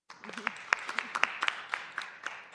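Applause from a board of aldermen welcoming an honored guest, scattered irregular claps from a modest group in a meeting room, moderately loud and fairly close.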